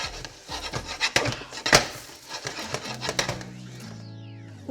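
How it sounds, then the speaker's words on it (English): Onions and corn sautéing in a pan while a utensil scrapes and stirs them: close scraping and rubbing strokes with light metallic knocks, irregular, ending in a faint sizzle. "So we need to saute these till they're about transparent."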